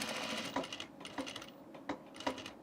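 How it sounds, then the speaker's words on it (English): Short bursts of a sewing machine stitching an X across a button-up shirt placket, several quick runs separated by brief pauses, close and fairly quiet. "going to sew one side again so that I can go down the other side with the X"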